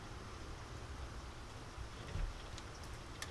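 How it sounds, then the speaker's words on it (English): Steady rain hisses outside in the zombie survival game Project Zomboid, a constant wash of noise with no speech. "It's raining outside."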